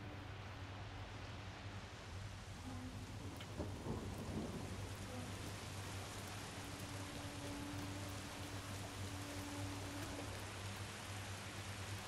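Steady rain and a low rumble of thunder sound in Sifu, a martial arts video game, with a constant wash of falling rain and a brief thunder swell near the middle, with no talk.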